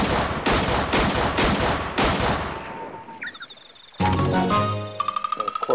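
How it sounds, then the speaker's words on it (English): Gunshots from the Wii Play Shooting Range target game, a run of about a dozen sharp evenly spaced shots, then electronic chimes and jingly game tones with a quick burst of rapid clicks near the end. "you just aim your Wii at the object using the crosshair and just shoot away"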